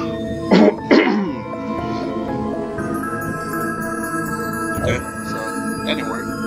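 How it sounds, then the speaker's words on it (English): Two sharp coughs near the start and another pair later, loud and close, over a steady music bed in a video game session. "Sorry about coughing a second."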